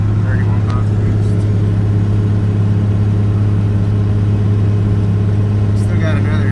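A Cummins 12-valve diesel truck engine drones steadily while towing about 22,000 pounds, holding 1200 rpm at 31 pounds of boost near 40 mph. The low, constant roar is heard from inside the cab.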